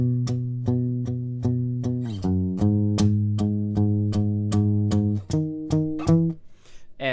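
Electric bass guitar plays part of the Fortnite bassline alone, a steady run of plucked, clearly separated notes with a few pitch changes along the way.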